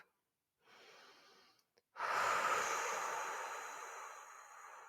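Breathing during a lower back exercise: a soft inhale, a brief pause with a faint click, then a longer, louder exhale of breath that slowly fades, close and alone.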